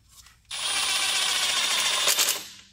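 A power drill set to a low clutch setting drives throttle body screws, whirring steadily and close for about two seconds before cutting off, with no talking.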